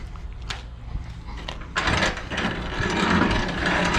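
A semi-trailer's landing gear being hand-cranked, with a close mechanical ratcheting and grinding of gears that starts light and grows louder and steadier partway through.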